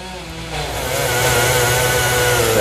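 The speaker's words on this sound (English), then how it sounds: "Those are Amtrak crews sawing trees along the tracks right behind houses" Amtrak crews running chainsaws to cut trees along railroad tracks behind houses at 2 a.m., a steady droning engine whine that swells louder and holds, heard close and alone without voices.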